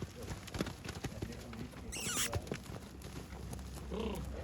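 Heavy draft horse hooves clopping at a walk, mixed with a brief whinny and background voices.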